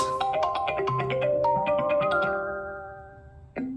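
A bright, chiming melodic default iPhone ringtone from iOS 26 beta plays alone, notes descending then holding and fading, with a new tone starting at the end.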